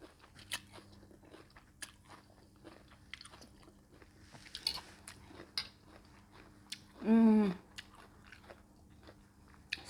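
Crunchy chewing and biting while eating purple cabbage, a series of close, dry crunches spread through the quiet, with a brief louder burst near the end.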